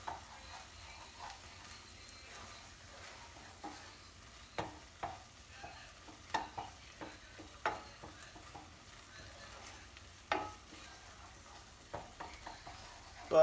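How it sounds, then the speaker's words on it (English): Butter melts in a pan with a soft, steady sizzle, punctuated by repeated light scrapes and taps of a utensil stirring, quiet and close with no talking. "Butter's melting nicely."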